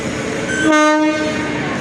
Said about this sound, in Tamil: இப்போ வைகை எக்ஸ்பிரஸ் உள்ள நுழைஞ்சிட்டு இருக்குது.